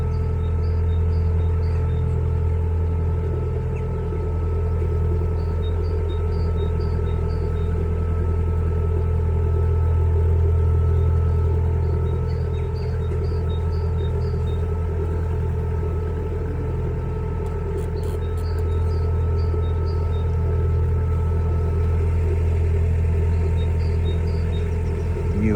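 A completely rebuilt boat engine runs at a steady idle, a continuous loud low rumble with an even mechanical hum throughout, close by and unbroken, with no one speaking.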